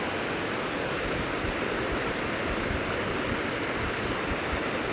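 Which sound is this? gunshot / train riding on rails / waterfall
waterfall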